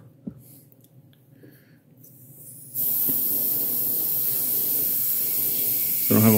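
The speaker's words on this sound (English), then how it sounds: "So I don't have a whole lot of paint coming out of my airbrush." An airbrush sprays paint onto a 1/4 scale custom figure, a steady close hiss starting partway in and running to the end after quiet handling noises.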